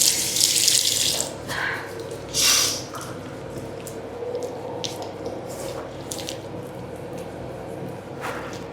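Tap water runs into a sink during face washing, a close gush that starts strongly, then comes in shorter splashing bursts and drips over a low running hiss.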